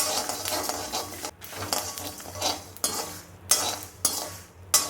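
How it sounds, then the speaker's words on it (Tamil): A spoon stirs rock salt while spice powder dry-roasts in a pan for tamarind rice paste, making repeated gritty scraping strokes against the metal, close and fairly loud, with no talking. "இதையும் போட்டு வறுத்துக்கலாம்"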